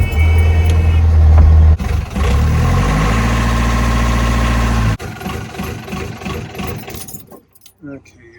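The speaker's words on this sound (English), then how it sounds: "I gotta start the engine and then pop it open again." A vehicle engine is cranked over and catches, settling into a loud, steady running drone with rattling, jangling metallic noise on top, then cutting out abruptly near the end.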